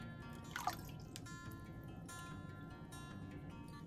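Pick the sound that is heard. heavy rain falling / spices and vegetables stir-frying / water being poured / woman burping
water being poured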